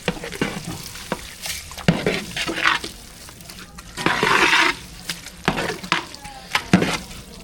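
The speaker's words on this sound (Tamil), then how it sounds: "நல்லா கலந்து விட்டுக்கலாம்" Cooked rice is mixed with curd and a tempering in a pot, giving close, irregular wet squelching stir sounds with scattered utensil scrapes and knocks, swelling into a louder, denser churn midway.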